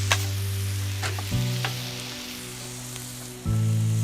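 Crumbled meat sizzles and fries steadily on a hot griddle, with a few scraping tosses of a spatula breaking up the crackling, close and alone without talk.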